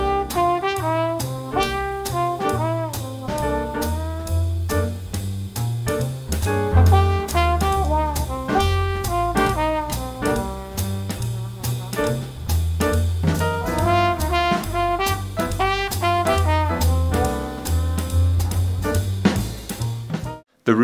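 A full jazz melody played by an ensemble over steady bass, continuous and bright with busy rhythmic phrasing, loud and close throughout with no talking.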